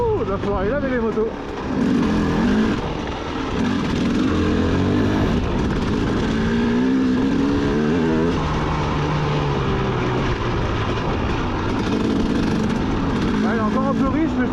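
A 2004 KTM 250 EXC two-stroke running slightly rich at idle, a loud, uneven close-up burble with occasional blips, while someone talks over it.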